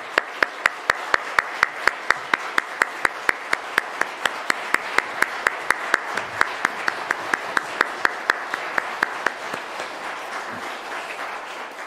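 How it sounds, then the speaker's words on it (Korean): A church congregation at a family dawn prayer service claps in steady unison, sharp regular beats keeping an even tempo for around ten seconds before loosening, fairly close and with no talking over it. "이제 박수하겠습니다."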